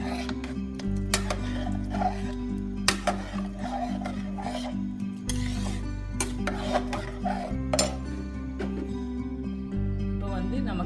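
Cooked rice being mashed and mixed with milk for rice kheer, a steady scraping and rubbing of a spoon against a pot, repeating throughout over low background hum.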